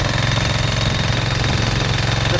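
A Yanmar engine driving a direct-drive DC charging plant coupled to a battery bank runs steadily nearby, a loud, even, rapid mechanical chugging with no change in pace and no voices.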